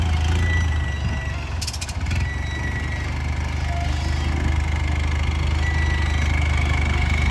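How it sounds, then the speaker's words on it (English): A rock crawler buggy engine idling at a night rock-crawling event in Reno, Nevada, a steady low rumbling exhaust drone with a brief rattling burst near the start, close and continuous. "Exhaust on this buggy sure sounds good. Front engine definitely seems to be performing well."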